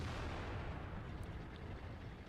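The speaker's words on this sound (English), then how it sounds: "So Sadie fires a blind shot." Deep, rumbling cannon fire in World of Tanks, a muffled boom rolling into a steady low roar, fairly faint and with no voices.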